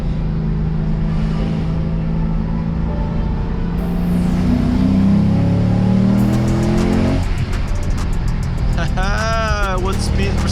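A Lexus RC F engine drones and revs continuously while climbing the winding Susten Pass road in Switzerland, loud and close, with pitch rising and falling through gear changes and some brief chirps near the end.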